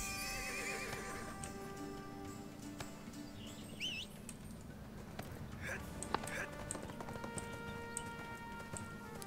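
A horse in the online game ArcheAge neighs and its hooves clip-clop, with faint bird chirps mixed in, all under a player's ongoing talk.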